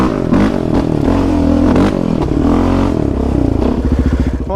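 Raptor 700 ATV engine revving hard while climbing a wooded trail, loud and close, with surging throttle swells and a rapid pulsing rev toward the end.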